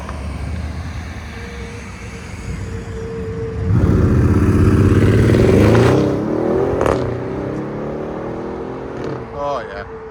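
An all-black Audi S7 twin-turbo V8 with a muffler delete and stainless steel tips idles, then revs hard with a loud rising and falling burst before settling back, heard up close with someone talking.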